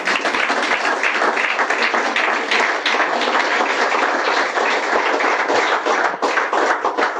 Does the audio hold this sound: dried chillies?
no